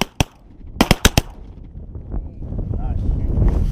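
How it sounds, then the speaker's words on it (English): Shotgun blasts fired at flying greenwing teal ducks during a hunt, with a sharp shot, a short pause, then three more quick bursts close together, followed by excited voices and wind noise. "shoot him, shoot him, shoot him"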